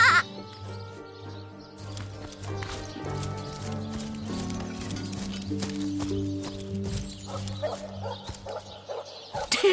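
Sheep bleats from the video game Divinity: Original Sin, repeated cries over layered game music and ambient effects, with other animal calls such as hoofbeats mixed in.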